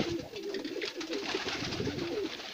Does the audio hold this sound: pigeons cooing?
yes